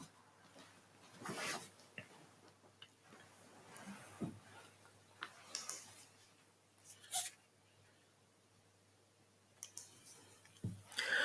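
Computer mouse buttons click sporadically in quiet surroundings while someone works through analysis software, with sharp single and double clicks spaced irregularly over faint room noise.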